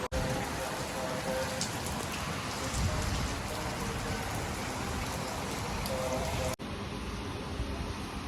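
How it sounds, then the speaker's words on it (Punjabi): Dense, steady downpour of heavy rain, a continuous close hiss of drops hitting surfaces without letup. "ਤਾਂ ਬਾਹਰ ਦੇਖਿਆ ਮੀਂਹ ਫੁੱਲ ਪਈ ਜਾਂਦਾ"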